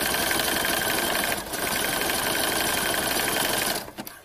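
A sewing machine runs steadily while top stitching knit fabric, a dense continuous whirring hum with one brief dip before the motor stops near the end.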